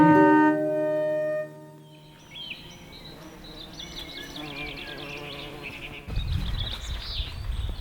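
Honey bees buzzing around a national hive, a busy humming drone with insects passing near, following a fading musical tone at the start.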